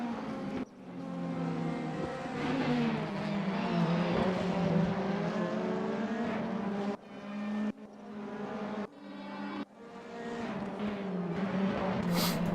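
Race car engine in a racing video game lapping a track, a loud sustained engine note rising and falling with gear changes and brief cuts as it accelerates, with no talking.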